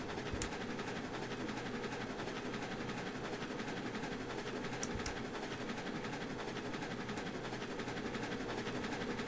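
A locomotive on rails in the railroad game Railroads Online, a steady mechanical rumble with rhythmic clatter running continuously at low volume, with a sharp metallic click near the middle.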